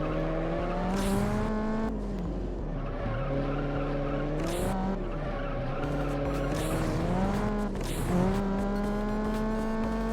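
Engine of an all-wheel-drive car in the Juiced racing game, run on nitrous, sustains a loud high-rev whine with repeated upshift dips and tire skids throughout.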